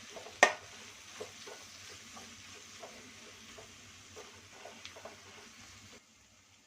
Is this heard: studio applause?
no